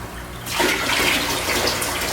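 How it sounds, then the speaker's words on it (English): Pond water rushes loudly through a homemade siphon hose into a tank, starting abruptly and then gushing in a steady broadband splash with no one talking. "this is my ghetto siphon hose right here."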